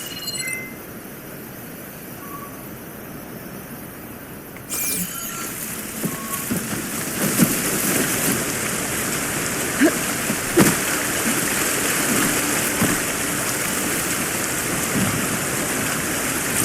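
A large waterfall in the video game Horizon Forbidden West gives a steady, full rushing roar of falling water that carries on throughout, with scattered splashes and small game sounds over it.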